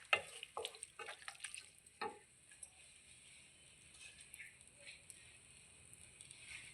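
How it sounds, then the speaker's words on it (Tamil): A spoon scraping and stirring mutton blood fry with egg in a pan, a handful of quick clattering strokes at the start, then quieter intermittent scraping with faint sizzling underneath. "ஒரு 5 நிமிஷம் வந்து கிளறி விட்டுனே இருங்க"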